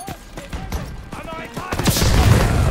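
Battlefield gunfire in the Call of Duty WWII campaign mission "Stronghold", a dense fusillade of shots and booms growing heavier and louder toward the end, with shouted voices mixed in.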